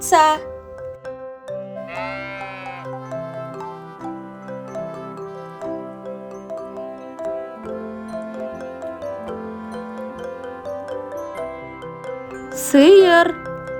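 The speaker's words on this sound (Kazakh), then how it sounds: "Овца" A sheep bleats briefly at the start, again in a wavering call a few seconds in, and once more near the end, set against soft chiming children's music for an animal-sounds lesson.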